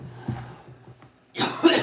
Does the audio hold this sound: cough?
yes